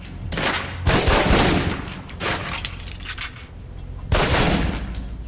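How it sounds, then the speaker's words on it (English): Pistol shots fired at a target on a firing range in the video game Alpha Protocol: three loud, booming reports with long rolling tails, spaced a couple of seconds apart. "Equip the pistol, then aim down range and take some shots at the target."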